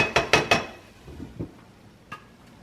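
A metal lid clatters onto a cooking pot of sautéed bottle gourd with ground meat, giving three quick ringing clanks close up and then a few softer knocks.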